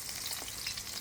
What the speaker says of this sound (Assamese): এইফালে তেল পূৰা গৰম হৈ গ'ল পিঁয়াজ কিনি দি দিওঁ